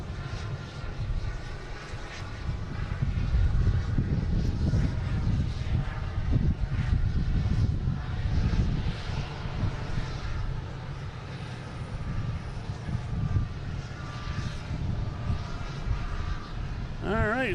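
Airliner engine roar at Boston Logan International Airport, a broad low rumble that swells and holds steadily, heard from a distance outdoors.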